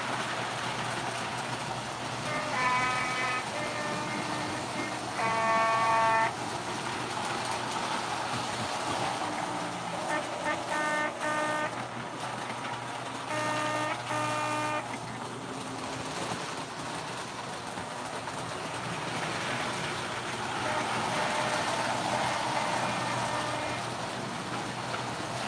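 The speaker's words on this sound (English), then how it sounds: "Yeah, it does sound like a European horn." A European-style horn sounds from a model train locomotive on a home layout, several short blasts spaced across the clip and fairly close, over a steady low rumble of running equipment.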